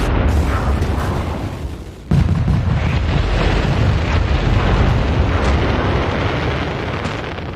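Fireworks exploding in the game Fireworks Mania, a loud continuous barrage of deep booms and crackling bursts, with a brief dip near two seconds before the roar resumes at full strength.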